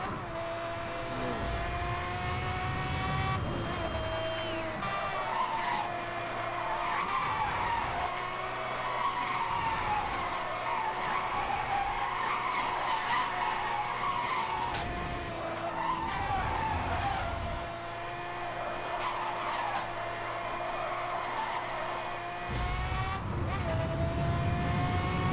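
Tires skid and screech as a car drifts through corners in Need for Speed Hot Pursuit, with a steady engine drone and repeated squealing bursts across the run; no talking.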